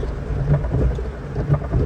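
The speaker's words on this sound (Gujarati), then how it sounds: "ખૂબ ટાઢો વરસાદ પડે છે" Heavy rain pours steadily during a storm, a dense wash of noise with low rumbling underneath, continuous and close throughout.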